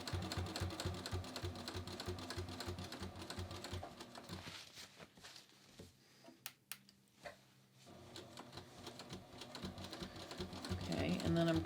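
A sewing machine back-tacks and stitches along the line of a simple front pocket, whirring in bursts that stop for a quiet pause mid-way, then run again, with a few soft clicks between.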